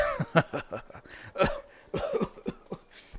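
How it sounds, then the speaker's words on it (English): Several short coughing bursts with throat-clearing sounds from a person during a Call of Cthulhu tabletop roleplay livestream, close to the microphone and irregular, without clear talk. "He pulls out a handkerchief, coughs."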